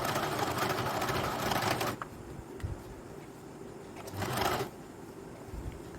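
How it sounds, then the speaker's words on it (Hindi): Sewing machine stitching blouse fabric, its busy mechanical whir running steadily for about two seconds, stopping, then returning in a second short burst, close and alone. "कपड़े को सीधा करते जाना है और उसके ऊपर ऐसे ही सिलाई लगाते जाना है।"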